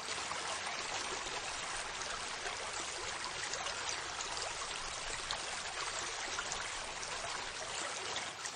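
A river flows in a steady, continuous rush of water with a bright, dense splash and trickle throughout, unbroken and fairly close, with no voices present.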